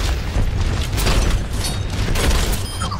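An enemy turret blows up in the Overwatch video game, a dense, loud blast with rumbling, crackling debris and mechanical clatter filling the whole stretch, with no voices.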